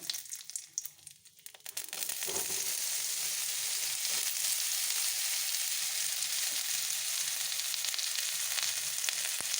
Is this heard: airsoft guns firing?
no